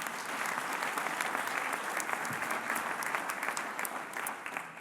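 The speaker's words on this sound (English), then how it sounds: "if we could give her a round of applause" Steady applause from an audience at a student awards ceremony fills the room, dense and even clapping throughout at moderate loudness.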